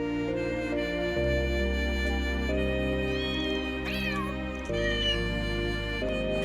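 Cats meowing in the video game Trails through Daybreak II: a few drawn-out, wavering meows rise over a steady sustained game music bed, fairly clear and close.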